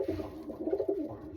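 Pure-bred pigeons coo softly from a breeding loft in a short, close, rounded burble with no voices.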